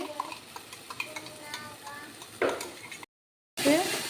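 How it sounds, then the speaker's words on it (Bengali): A paste poured over onions fries in oil with salt and turmeric, giving a soft sizzle while a spoon stirs and scrapes the pan; a brief silent gap interrupts the sound before it resumes. "এটাকে একসঙ্গে ভালো করে নেড়ে চেড়ে এটাকে ভাজা ভাজা করে নিচ্ছি"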